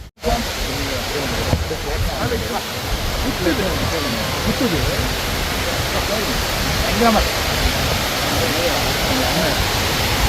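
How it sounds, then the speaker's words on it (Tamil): A hidden waterfall on a Meesapulimala mountain trek roars as a constant, broad rush of falling water, close and loud, with faint voices under the noise. "நம்ம அருவிக்கு பக்கத்தில் வந்தாச்சு."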